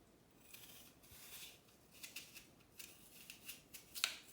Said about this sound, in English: Next, you're going to cut off the core.